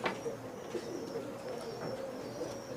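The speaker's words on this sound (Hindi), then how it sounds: "ये देखें जी, ये कबूतर है" A pet pigeon from a fancier's prized flock coos softly and steadily at close range, low throaty calls repeating over a faint background hum.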